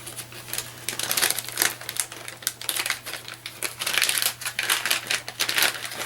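A packet of mocha instant powder is torn open, giving a run of close, crinkly rustling and ripping bursts for several seconds over a low steady hum.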